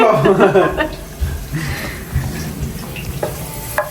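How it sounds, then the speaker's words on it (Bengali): Food sizzles and fries in a pan throughout, with stirring scrapes mixed in. People talk and laugh over the cooking. "ভাইয়া রান্না বান্না করছে আমাদের জন্য"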